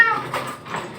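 A pet cat gives two drawn-out, close meows in quick succession, indoors at a house during bath time, each one rising and falling at moderate loudness.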